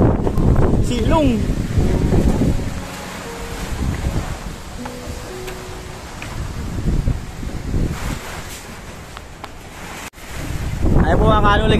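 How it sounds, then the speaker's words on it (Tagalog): Strong wind blows across wide-open rural ground with rain falling, loud gusts buffeting the microphone throughout, a voice speaking at the start and end. "ganyan kalakas ang hangin dito"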